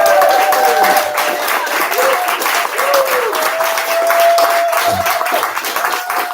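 An audience at a New Thought Center of Hawaii service applauds for L.T. Smith, with dense clapping continuing under a voice that talks through it and a faint sustained tone in the background.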